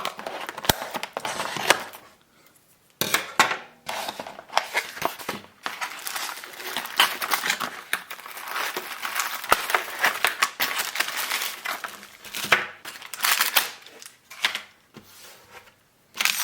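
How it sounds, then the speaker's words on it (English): A Star Wars Black Series NED-B action figure is cut free of its plastic-free cardboard packaging: close, irregular bursts of crinkling paper, snipping and rustling with brief quiet gaps, no talk. "So let's just cut him out of the box."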